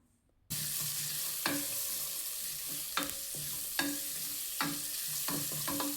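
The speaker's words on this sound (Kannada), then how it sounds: "ಇದಿಷ್ಟನ್ನು ಎಣ್ಣೆಯಲ್ಲಿ ಫ್ರೈ ಆಗಬೇಕು." Garlic, onion, asafoetida and curry leaves frying in hot oil in a pan for a sprout curry, a steady close sizzle that begins abruptly, broken by several sharp stirring scrapes.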